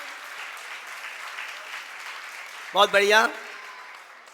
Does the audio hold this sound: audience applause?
yes